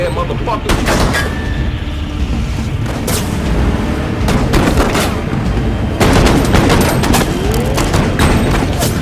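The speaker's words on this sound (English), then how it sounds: "Two suspects were struck by return gunfire by members of the Houston Police Department." Loud bursts of police gunfire crack repeatedly in irregular clusters, sharp and close, over a noisy, chaotic background during a shootout with suspects in Houston.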